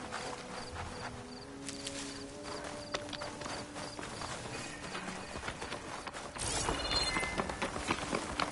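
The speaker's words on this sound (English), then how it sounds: "Aloy's on horse." In Horizon Forbidden West, a mount's hooves clip-clop in a steady, fairly quiet rhythm beneath game music and ambience, and a burst of louder activity comes near the end.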